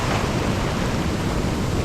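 Big waves break at a Philippine fishing shore, a loud, steady churning roar of surf with wind buffeting the microphone.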